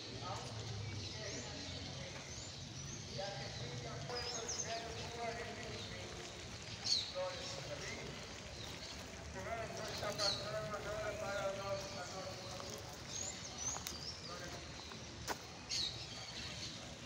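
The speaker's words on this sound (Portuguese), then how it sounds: "Tá ouvindo o canto dos pássaros?" Birds chirp and sing in short bursts over a steady outdoor background, with a voice talking through much of it and a few rhythmic clip-clop-like knocks.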